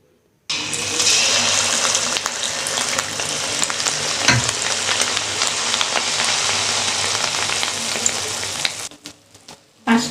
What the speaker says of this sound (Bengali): আঁচটা কম দিয়ে ভাজতে হবে,